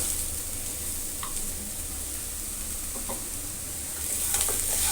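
Jaggery sautéed and stirred in a pan for kollu kattai filling gives a steady soft sizzle with a few faint scrapes of a spoon, continuous and close, no voices.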